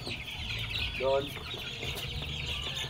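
Young chicks in a pen with fresh rice-hull bedding keep up a high, continuous peeping chorus, with a lower cluck-like call near the middle and a brief voice speaking over them.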